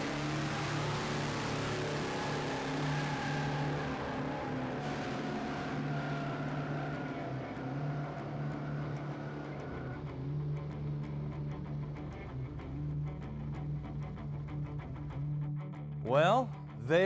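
A 1967 Chevy C10 pickup nicknamed Copperhead, running without nitrous, accelerates down a drag strip. Its engine roars continuously with a shifting pitch, heard at a distance over a long run, and ends with a couple of sharp sweeping bursts.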